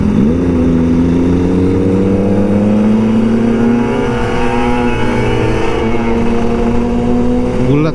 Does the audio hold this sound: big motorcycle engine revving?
yes